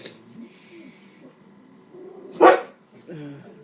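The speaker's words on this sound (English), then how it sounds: "It's okay if they bark. They do it all the time." Indoor dogs in a home let out one sharp, loud bark close by, surrounded by quieter talking before and after.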